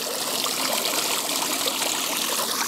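Water from an outdoor fountain runs and splashes steadily, a dense continuous rushing trickle with no voices over it.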